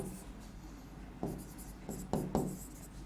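Pen writing down moles while solving a chemistry stoichiometry problem, a few soft scratchy strokes and taps close by over a quiet room background.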